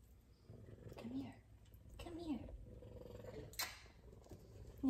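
An F2 Savannah cat purrs up close at home, a low soft continuous rumble with a few faint vocal bursts mixed in, quiet overall.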